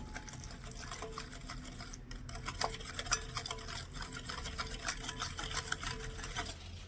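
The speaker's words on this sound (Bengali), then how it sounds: "এবারে এই দই চিনি আর তেলটা একটু ভালো করে মিশিয়ে নেব" Yogurt, sugar and oil being whisked together in a bowl for a sponge cake, a quiet, fast, continuous rhythmic scraping and clicking of the whisk close by, with no one speaking.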